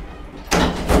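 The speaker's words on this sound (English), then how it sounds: "Doors closing." A Thyssen hydraulic elevator's doors at a Marks & Spencer store in Nottingham slide shut with a brief rumbling whoosh and a muffled thud, close and fairly loud.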